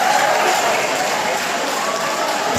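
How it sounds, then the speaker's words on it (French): An audience claps for Chimène at an evening event in Paris, a dense, continuous wash of applause that is loud and close, with no talk. "Est-ce qu'on peut applaudir très fort pour Chimène?"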